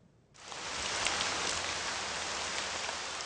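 Heavy rain pours down in Avaré, Brazil, starting abruptly as a dense, loud, steady roar of rainfall that continues unbroken, with no voices.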